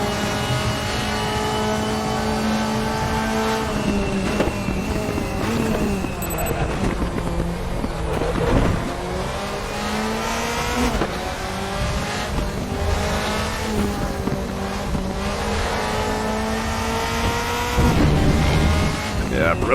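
A 2003–2005 DTM race car engine at the Nurburgring in RaceRoom, revving hard through repeated upshifts and downshifts with some tire squeal, loud and continuous, with someone talking over it.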